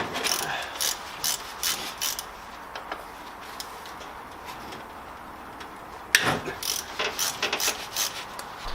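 A hand ratchet works loose the top bolts on a VW VR6 Jetta transmission, a rapid clicking pawl sound in quick repeated bursts with short pauses, close and fairly loud.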